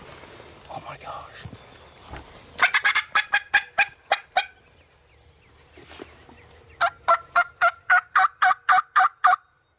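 Wild turkey gobbling in the field at dawn: two loud runs of rapid, evenly spaced gobble pulses, the second series closer and cleaner, with faint whispering and soft rustling between them.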